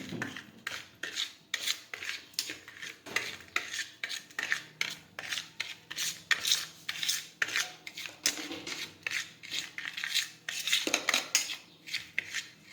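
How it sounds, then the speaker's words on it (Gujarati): Spice masala being mixed with sugar in a dish for sweet-and-sour lemon pickle: steady rhythmic scraping and rasping of a spoon against a metal pot, close and fairly quiet, without talk. "હવે મસાલો છે તે મિક્સ કરી દઈશું"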